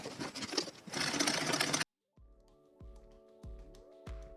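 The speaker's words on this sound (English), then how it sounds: "Now here I'm sewing the hem a second time to tighten that rope up into the very top edge." A sewing machine runs steadily, stitching a second pass along the rope-filled hem of a leather tool bag, then stops and gives way to a few ringing mechanical knocks.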